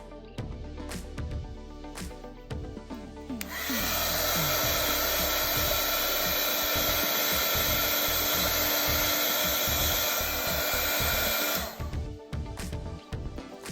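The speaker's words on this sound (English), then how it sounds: "Be sure to remember to use your heat gun for this layer of epoxy." A heat gun runs steadily over a fresh epoxy layer on a glitter tumbler, a loud, constant blowing hiss for about eight seconds, with quieter handling noises before it starts and after it stops.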